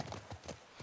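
A horse's hooves clip-clop in The Last of Us, a few quick, faint hoofbeats in an even rhythm over a short stretch.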